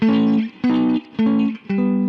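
An electric guitar plays four two-note chords in sixths at a fixed distance, off the scale, one after another in a steady rhythm, each ringing briefly, sounding slightly clashing, close and moderately loud.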